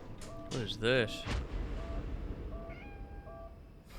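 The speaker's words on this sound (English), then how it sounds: "Little kitty cat." A cat meows inside the horror video game Conarium, its wavering, pitch-bending cry rising loud around the first second amid rumbling ambient game sounds and a heavy thud, followed by faint tonal chimes.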